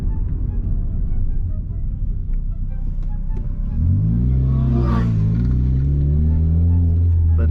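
A loud 150 HP Hyundai Tiburon drives close by, its engine rumbling steadily and then revving up into a deeper, louder roar partway through.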